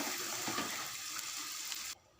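Water pours steadily into a pan of chana dal cooking dhaba style, giving a continuous splashing, hissing rush at moderate volume that stops abruptly near the end. The pan keeps a quiet simmer after the pour.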